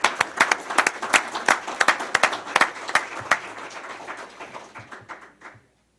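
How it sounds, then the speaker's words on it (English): An audience at a county board of education meeting applauding winning schools, with sharp, close claps over a fuller round of clapping that thins out and stops by the end. "Give them one more round of applause."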